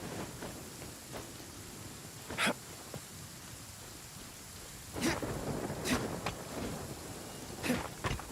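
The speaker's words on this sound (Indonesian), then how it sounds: "hujan lagi" Rain falls steadily in Genshin Impact, with several rumbles of thunder breaking through at intervals over the constant downpour, no voices present.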